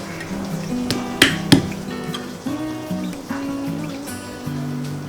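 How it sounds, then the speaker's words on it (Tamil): Soapnut (poonthi) seeds are cracked open by hand, giving a few sharp, close knocks and cracks, two especially loud ones, amid quieter handling sounds with no talk. "பூந்தி கொட்டையும் நம்ம உடச்சி எடுத்துக்கணும்."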